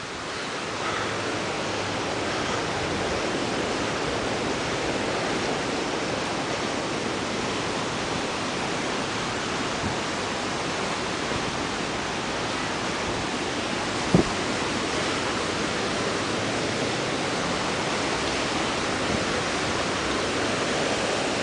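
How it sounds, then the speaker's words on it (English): A creek running high enough to look like a river in Boulder, Colorado, giving a steady, dense rush of water close by, unbroken throughout, with one brief knock partway through. "It's not even a river, it's a creek, but it sure looks like a river to me."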